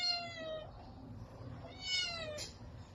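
A pet cat meows twice nearby, two clear drawn-out calls about two seconds apart over a quiet room hum.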